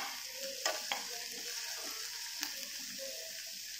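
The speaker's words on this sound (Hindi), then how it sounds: "हम ये प्याज रोस्ट कर रहे हैं।" Onions roasting with a little salt in a pan for a paneer dish, giving a soft, continuous sizzle with a few light spatula clinks and scrapes near at hand.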